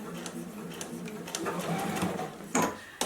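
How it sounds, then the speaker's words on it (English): A JUKI sewing machine stitches fabric for an embroidered face mask, a fast mechanical whir with rapid needle ticks and a few sharper clicks near the end, close and fairly quiet. "Sew down to the mark. Back stitch."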